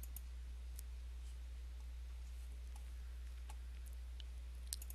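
A computer mouse clicks faintly several times, small sharp ticks scattered over a steady low hum in a quiet room.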